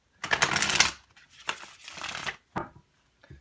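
Tarot cards being shuffled in several quick riffling bursts, a long crisp flutter followed by two shorter ones, close and clear with no talking.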